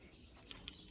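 Small birds give two quick, high chirps a moment apart over a quiet outdoor hum near the coast at Arroio do Sal, Brazil.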